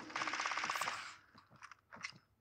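Automatic gunfire in Call of Duty Modern Warfare 3 rattles in a fast burst of rapid shots, followed by a few scattered sharper bangs and clicks, moderately loud.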